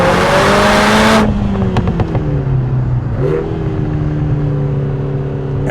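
A Lotus Emira with a turbocharged four-cylinder and dual-clutch transmission accelerating hard, the engine note climbing through short gears with quick shifts, loud and close.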